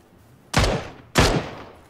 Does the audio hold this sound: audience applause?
no